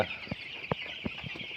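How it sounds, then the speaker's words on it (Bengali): Broiler chickens on a small farm of about five hundred birds cluck in short, soft bursts, a few scattered calls over a steady background hiss. "পাঁচশো ব্রয়লার মুরগির খামার ছোট্ট একটা খামার"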